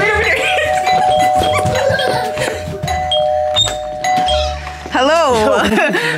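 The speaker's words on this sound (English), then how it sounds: "I don't know why you're ringing down the bell." A doorbell rings several times at a house, with excited voices and chatter from people gathered indoors talking over and between the chimes.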